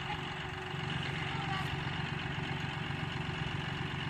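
A tractor engine idles steadily at a distance, a constant low rumbling drone with no change in pace throughout.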